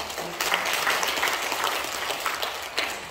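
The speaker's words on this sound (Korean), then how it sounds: "하나님께 박수합시다." A church congregation at a Korean Sunday service breaking into applause, a dense burst of many hands clapping that starts abruptly and continues steadily, fairly loud and close, without speech.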